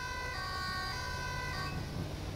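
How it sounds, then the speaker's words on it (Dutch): Ambulance siren in the GTA 5 video game, an emergency services mod vehicle, wailing steadily with layered electronic tones over a low vehicle rumble, moderately loud and continuous, cutting partly away near the end. "Ook om de sirene uit te zetten in een bocht."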